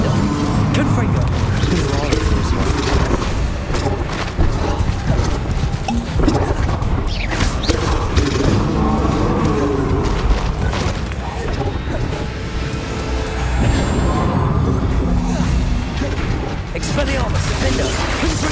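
Confringo explosion spell cast in Hogwarts Legacy combat: dense, loud booms and crashing blasts layered over continuous battle noise, with voices shouting throughout.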